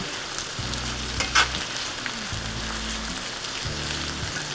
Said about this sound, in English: I put it in a fry pan like this, put a little olive oil in it, and mixed it with onions